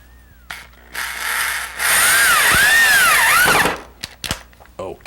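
A power drill drives a screw into wooden L-girder model railroad benchwork in a couple of loud whirring bursts with rising and falling motor pitch, framed by clattering handling knocks close by.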